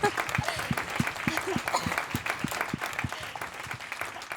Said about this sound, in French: j'aimerais qu'on s'applaudisse tous ensemble